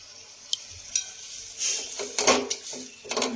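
A spoon stirs date palm sap as it cooks down in a pot, with repeated scraping and metallic clinks, a soft bubbling underneath, and several louder, close scrapes toward the end.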